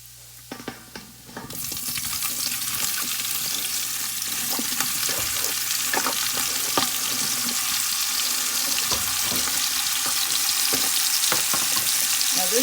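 Three pounds of pre-cut, pre-cooked smoked sausage sizzles steadily in a pot, a continuous close frying hiss with occasional stirring clatter, after a brief quieter start.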